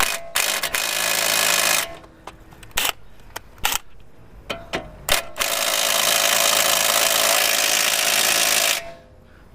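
A pneumatic impact gun hammers at a long front suspension bolt on an Audi B6 S4, firing in a two-second burst, then short stabs, then a sustained loud rattling run of about three and a half seconds, close up.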